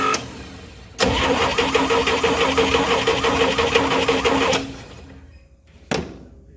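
A small carbureted engine, freshly rebuilt and running on choke, starts abruptly and holds a loud, fast, steady chattering idle for several seconds, then cuts out, followed by a brief sputtering restart attempt.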